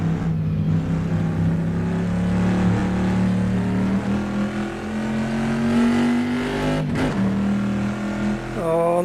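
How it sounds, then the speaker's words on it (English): A race car engine in a sim racing video game, heard from the bonnet camera, drones loudly and steadily with its pitch shifting and one brief dip, as though through a gear change, alongside faint background noise. "in bonnet mode here, you can really hear the engine"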